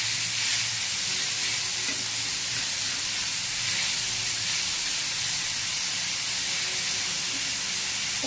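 Onions for a soybean chutney frying in oil, a steady, loud, close hiss and sizzle running without a break throughout.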